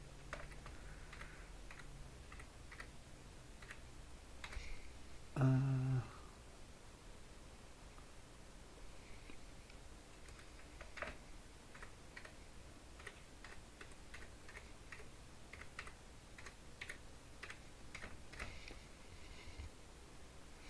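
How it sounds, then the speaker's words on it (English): Fingers tap a computer keyboard at a desk during a live crypto trading session, scattered quiet keystrokes clicking in irregular bursts over a soft hiss, with one louder thump partway through. "I honestly need to pay attention sometimes on which keyboard I'm hitting."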